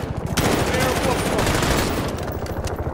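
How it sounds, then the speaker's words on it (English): Gunfire in the video game Call of Duty Modern Warfare: rapid, dense bursts of automatic weapon fire rattle close and loud through an indoor fight, with voices talking over the shots. "Bravo 7 shooting through windows."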